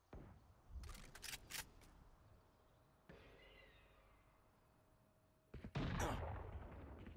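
Gunfire in the tactical shooter Valorant comes as sharp bursts of shots, a cluster early and a louder close burst near the end, separated by quieter game ambience.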